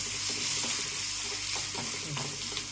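Hot oil sizzles steadily in a pan while making bhel puri, a close, continuous frying hiss with faint stirring scrapes throughout.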